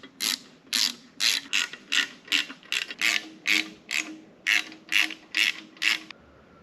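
A hand ratchet clicks in quick, even bursts while tightening bolts on a Subaru STI Type RA short block, about a dozen close, crisp strokes with brief pauses between them.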